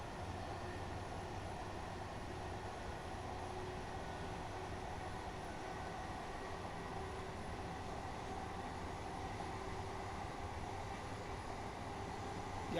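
Faint, steady rumble of a diesel train pulling away slowly in Train Simulator Classic, an even engine drone with a soft hum that holds unchanged throughout, without speech.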